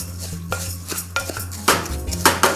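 Spoon scraping and clanking against a cooking pot while rice and vermicelli are stirred, a steady series of sharp metallic knocks and scrapes, close and fairly loud, with no voices.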